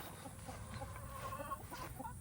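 Chickens cluck softly at a distance outdoors in a small-town setting, with faint low background rumble and no talking.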